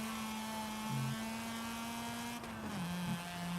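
Car engine held at full throttle on a straight in a racing video game, a steady high-revving whine with brief pitch dips from shifts near the middle and end, alone without talk.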